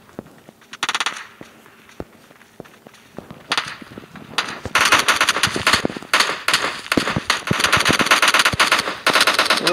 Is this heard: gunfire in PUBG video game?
yes